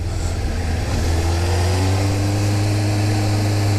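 Suzuki sport motorcycle engine revving up close, a loud steady drone that climbs in pitch as it accelerates, with no talk.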